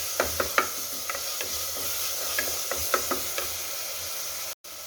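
A spoon scraping and stirring chopped tomatoes with salt in a hot pan for vegetable kurma, irregular soft clinks and knocks over a constant low sizzle, with one brief dropout near the end.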